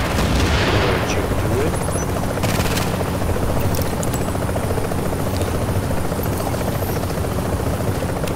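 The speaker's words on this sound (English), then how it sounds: "as soon as the helicopter gets over here" A video game helicopter roars loudly and continuously with a dense rotor drone, mixed with scattered bursts of gunfire and booms in a combat scene.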